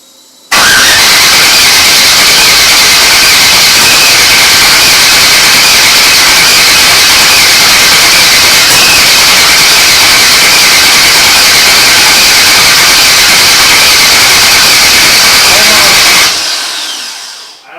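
A Camaro engine runs on starting fluid at its first start, a loud, rough, continuous roar with a squealing edge that holds steady for about sixteen seconds before cutting off.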